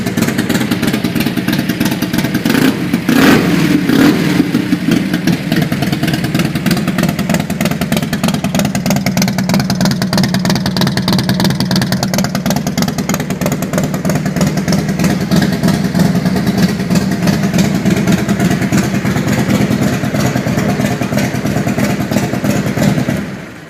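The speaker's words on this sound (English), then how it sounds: "This bike runs really good. Has Vance Hines aftermarket exhaust." A 1998 Harley-Davidson Fatboy motorcycle fitted with an aftermarket Vance Hines exhaust runs steadily and loud nearby, its engine producing a continuous throaty, loping rumble with mechanical clatter throughout, with no voices.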